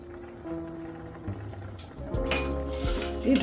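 A metal lid is set down over a karai (kadai) pan of turmeric-spiced water simmering for shutki bhorta, giving a few close, ringing clinks and clatters of metal on metal, the loudest bursts in the second half.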